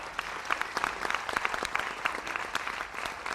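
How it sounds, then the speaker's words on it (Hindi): Lively audience clapping at a health talk, with dense, distinct hand claps crackling close by in a steady, energetic burst that never lets up. "इनके लिए स्पेशल ताली हो जाए"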